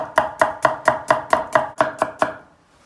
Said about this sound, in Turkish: Soğanlarımızı da doğrayalım.